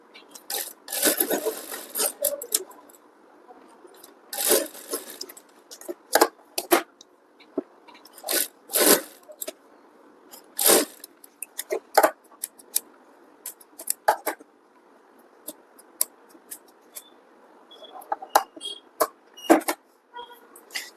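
A sewing machine stitches blouse fabric and lining along the centre line of a dart on a size 38 four-tuck blouse. It runs in short, irregular bursts with pauses between them, and no one speaks.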